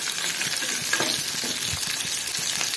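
Onions with garlic sautéing in a pan for sambar rice, an even close sizzle with repeated soft stirring scrapes and clicks across the whole stretch.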